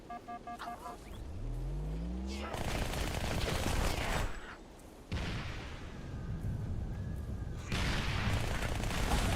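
Enemy gunfire in the video game Halo Spartan Assault, dense rapid bursts and booms filling most of the stretch after a short synthetic sweep, loud and continuous with a brief lull midway.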